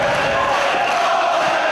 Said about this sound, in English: This crowd's feeling it.